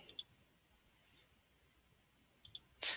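Faint, crisp computer mouse clicks come in small pairs, with a quiet gap between them and a slightly louder click at the end, in a quiet room with no speech.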